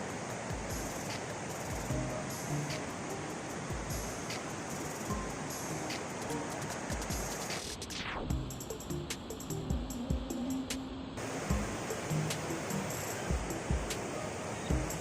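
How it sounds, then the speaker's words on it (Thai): Steady, strong rush of a swollen mountain stream beside rice fields at Mae Klang Luang, Chiang Mai, a dense continuous roar with no letup across the whole stretch. "ได้ยินเสียงน้ำไหลไหมครับ น้ำเยอะมาก ไหลแรงด้วยครับตรงนี้"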